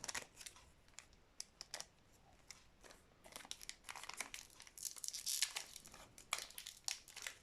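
Crinkly foil wrapper of a Japanese Pokémon trading card pack being unwrapped and torn open up close, a steady run of sharp crackles and rips with no talking.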